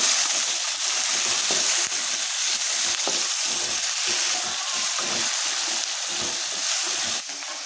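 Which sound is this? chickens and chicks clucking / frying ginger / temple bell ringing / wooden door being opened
frying ginger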